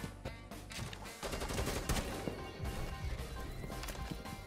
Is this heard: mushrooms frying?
no